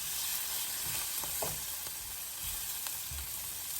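Fish sizzles gently in a pan over the lowest heat, giving a soft, continuous crackle and hiss with a few small pops and stirring clicks, faint and close, with no talk.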